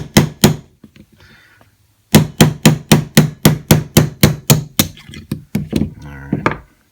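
A hammer drives a punch to knock a single chassis pin out of a Diamondback AM2 rifle, heard as two sharp strikes and then a steady run of about a dozen evenly spaced, loud metallic taps close by, with a few lighter hits at the end.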